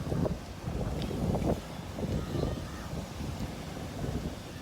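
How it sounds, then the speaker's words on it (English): Steady, rumbling wind buffets the microphone at an outdoor lakeside beach in Chicago on the Fourth of July, with a constant low roar and no clear voices. "But very windy out here"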